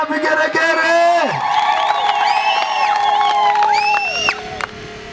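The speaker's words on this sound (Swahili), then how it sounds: "Makofi na vigeregere." Church crusade crowd cheering, clapping and ululating loudly, with high trilling voices rising over applause and shouts throughout.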